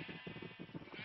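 Sheep bleat on a video game sheep farm, a quick run of short, quiet, wavering bleats that follow one another closely over about a second.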